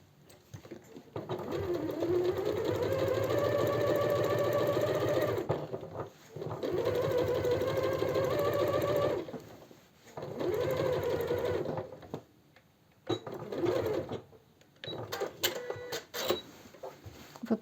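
A sewing machine topstitches along the edge of a white blouse made of natural fabric, running in several sustained whirring bursts separated by short pauses, with faint clicks near the end.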